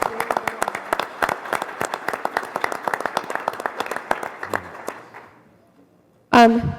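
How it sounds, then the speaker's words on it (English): Audience applause at a Board of Education meeting: a sustained burst of dense, close clapping that fades away near the end, followed by a brief loud voice. "Congratulations, give them a round of applause"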